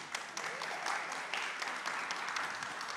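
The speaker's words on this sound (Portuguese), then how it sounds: "Letícia, que recebe os nossos aplausos." Audience applause at a panel discussion on collaborative action toward the Sustainable Development Goals, a steady, fairly quiet wash of clapping with no pauses for about three seconds.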